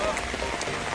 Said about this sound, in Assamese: ইমান বৰষুণ